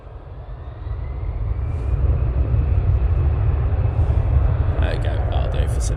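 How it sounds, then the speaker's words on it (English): EasyJet airliner accelerating on its takeoff roll at Manchester Airport, a steady deep engine roar building over the first seconds and then holding loud and continuous, with brief higher hiss toward the end. "EasyJet now on the roll"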